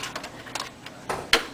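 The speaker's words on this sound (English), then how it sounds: "You can also remove the CPU by lifting up this lever" A metal CPU socket lever is lifted on a desktop computer being taken apart, giving a few light ticks and scrapes and ending in one sharper click.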